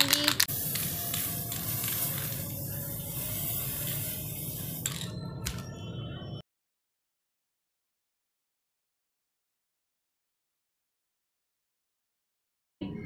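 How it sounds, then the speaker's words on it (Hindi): Copper spray paint hissing from an aerosol can onto a dish-washing wire craft piece, a steady close spray with a few short bursts and rattles, ending abruptly into silence. "और मैं इस पर कॉपर स्प्रे पेंट इस्तेमाल करूँगी"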